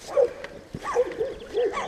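Dogs at a mountain homestead near a lone rock formation give several short barks and yips, close and moderately loud, spaced across a couple of seconds over outdoor background noise.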